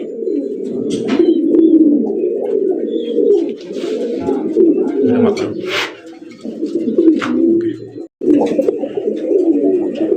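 Fancy racer pigeons coo repeatedly up close, deep throaty rolling calls that continue almost without pause, while someone talks over them and brief higher chirps break through.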